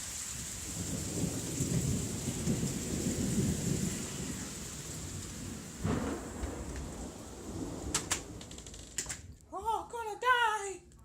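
Heavy rain pours steadily through a thunderstorm, with thunder rumbling low and loud in long rolls across the scene; near the end a person speaks briefly close by.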